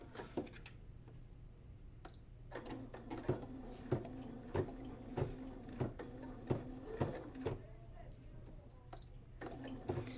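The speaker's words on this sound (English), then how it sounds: "you can see as this is stitching, it's just doing a nice little buttonhole stitch, just tacking that down" An embroidery machine sewing a buttonhole tack-down stitch in 1755 thread over fabric, a close run of quick, regular mechanical clacks and whirs with short pauses between stitch runs.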